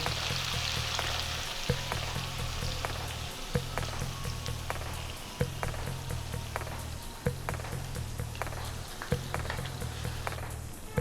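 Yogurt jackfruit curry simmers and sizzles in a pan just after water is added, a steady frying hiss with a low bubbling hum broken by regular soft clicks and taps.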